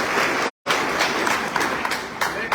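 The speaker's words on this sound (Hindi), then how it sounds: "उन सब के लिए तालियां जो है बजानी।" Dense, loud applause from a crowd at a Bhim Army political rally in Bijnor fills the whole stretch, steady and unbroken except for one brief dropout near the start.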